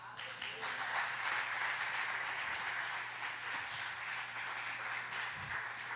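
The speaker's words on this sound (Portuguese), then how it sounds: "Se é crente, aplauda." A church congregation applauds during a Portuguese-language sermon, a steady wash of clapping that holds for several seconds, with a low hum running beneath it.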